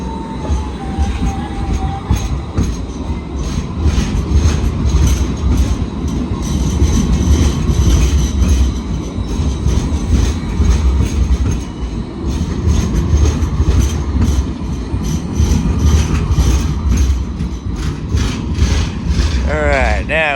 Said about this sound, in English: Bear with me for a second while this other tram passes.